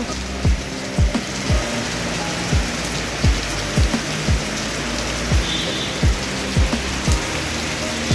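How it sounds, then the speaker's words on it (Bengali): Heavy rain pouring down in a dense, continuous roar, with regular louder drips or knocks striking a hard surface close by about every half second. "প্রচুর জোরে বৃষ্টি নেমে গেছে আবার"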